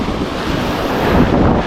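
Ocean waves surge at a coastal fishing spot where snapper are being caught. The surf is loud and continuous, and wind buffets the microphone the whole time.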